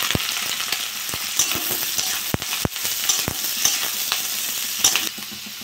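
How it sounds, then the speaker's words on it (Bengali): Green chillies frying in hot oil with panch phoron for a vegetable chop, a steady bright sizzle throughout with occasional sharp pops and crackles, close and continuous with no talking. "আমি এবার কাঁচা লঙ্কা দিয়ে দেবো।"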